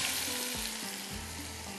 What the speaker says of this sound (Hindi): थोड़ा सा ये फ्राई होगा। इसके बाद इसमें डाल देती हूँ ये सब्ज़ियाँ।